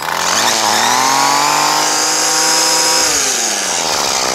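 A Craftsman 32cc auto-choke two-stroke straight-shaft weed trimmer engine runs loud and close, its whining drone rising and settling in pitch as the throttle shifts, with no talking.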